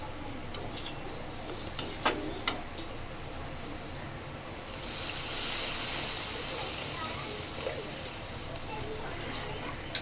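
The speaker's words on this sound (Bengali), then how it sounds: "জলটা দিয়ে দেবো মশলাটা কিন্তু খুব সুন্দর করে ভেজেছি আমি জলটা এখানে দিয়ে দেবো" In a home kitchen, water is poured into fried spice masala in a pan, a rushing hiss that swells midway, preceded by a few clinks of utensil on metal.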